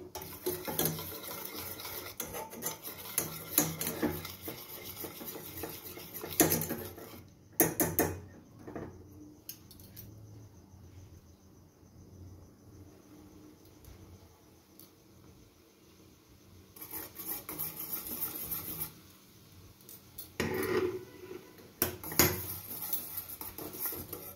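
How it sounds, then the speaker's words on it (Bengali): Milk heating in a pot for hot chocolate is stirred continuously, a spoon scraping and clinking against the metal in uneven bursts with a quieter stretch midway. "দেখুন দুধটা আস্তে আস্তে এবার ফুটছে। এইভাবে এটাকে ক্রমাগত কিন্তু নেড়ে দিতে হবে।"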